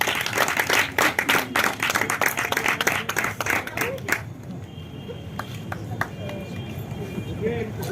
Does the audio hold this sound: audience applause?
yes